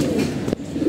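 A pigeon gives one short, low coo, fairly loud and close, during a rainy monsoon spell when some of the flock is unwell.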